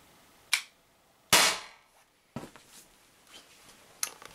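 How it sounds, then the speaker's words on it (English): An Umarex HDR50 air revolver fires polyester slugs at tin cans: a few sharp, separate snaps spaced about a second apart, with faint clinks and rattles after the shots. "Should be two more shots in the revolver."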